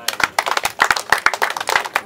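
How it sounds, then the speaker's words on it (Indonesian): Applause for the village head's wife at a community gathering: a small audience claps in a steady run of sharp, dense claps that fill the whole stretch at moderate loudness. "Ya tepuk tangan dulu untuk Ibu Lurah"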